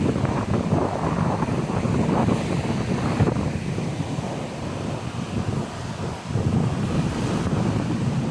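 Ocean waves rush and churn steadily, a loud continuous roar of surf mixed with gusty wind buffeting the microphone.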